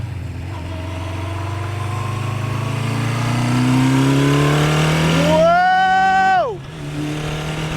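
A 1976 Honda CB550 motorcycle engine revs up steadily, pitch climbing under load, then surges to a high rev and drops sharply back toward idle, with a brief exclamation near the start.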